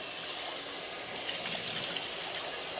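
Tap water runs steadily over a Nama J2 juicer filter being rinsed under the faucet, a close, even splashing rush for a few seconds.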